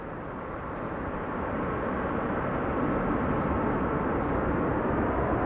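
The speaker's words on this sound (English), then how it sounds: "Little use of the reversers there by Delta." A Delta airliner landing with light use of its thrust reversers, a steady, fairly distant rumbling roar that builds slightly and holds, with no talking.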